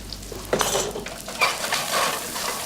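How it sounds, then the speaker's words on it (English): Mediterranean anchovies melting with garlic and onions in a pan give a close sizzle with scraping and light clinks of a utensil against the pan in irregular bursts, no talking. "Put those in there and let them melt, let them dissolve, along with the garlic and the onions."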